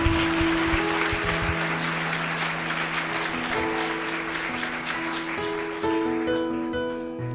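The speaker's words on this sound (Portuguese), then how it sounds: "Pode dar uma salva de palmas." Steady applause from a church congregation at an anniversary service, dense clapping running throughout with sustained organ or keyboard chords underneath.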